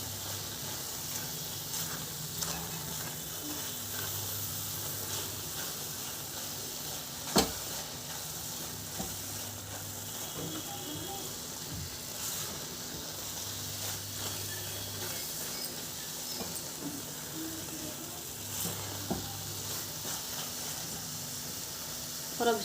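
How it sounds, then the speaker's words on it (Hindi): Coconut barfi mixture with milk cream being stirred and cooked in a pan, a steady soft sizzle and hiss with occasional scraping knocks of the spoon, fairly quiet and continuous. "अब थोड़ी देर उसे पका लेंगे इस तरह से चलाते हुए"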